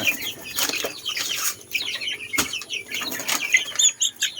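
Native chickens and chicks cluck and peep at dusk, with scattered calls, bursts of flapping wings and faint thumps, fairly close and with no talk.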